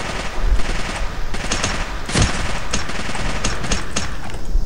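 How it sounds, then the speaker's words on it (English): Rapid volleys of gunfire from the video game Return to Castle Wolfenstein crackle in quick bursts, some shots sharper and nearer than others, with no talk over them. "I don't know why I'm using the silenced gun."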